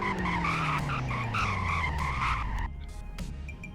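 A sedan braking hard in a video game, with a loud wavering tire squeal over a falling engine drone for a few seconds, then cutting off to a quieter rumble.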